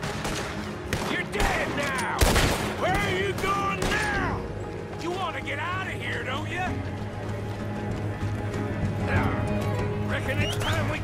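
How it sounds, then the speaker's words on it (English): Horses gallop through a Red Dead Redemption 2 shootout, hoofbeats clattering under bursts of gunfire while voices shout and talk over the action throughout. "Keep riding, Morgan."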